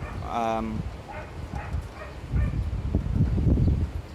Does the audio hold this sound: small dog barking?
yes